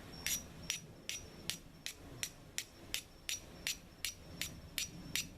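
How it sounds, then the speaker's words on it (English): A screwdriver scraping repeatedly across Duracoat-coated metal in a torture test, fourteen or so sharp, evenly spaced scratching strokes close by, with no talk. "let's see what I can get to happen with the same screwdriver again"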